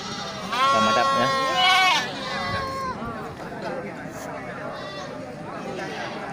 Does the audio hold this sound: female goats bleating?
yes